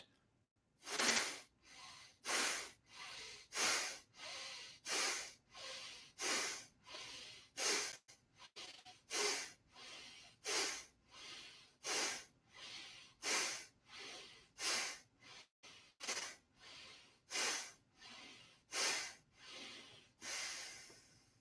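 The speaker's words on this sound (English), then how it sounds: "Now plugging the left nostril, 15 out right." About fifteen forceful, rhythmic exhalations are pushed out through the right nostril during pranayama practice, each a close, loud, hissing snort repeated at a steady pace with no talking.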